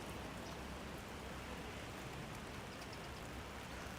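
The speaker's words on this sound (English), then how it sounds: "So this is just some crazy rain." Heavy rain pours steadily on a street in Osaka, a dense, continuous wash of drops close around with no pauses and no talking.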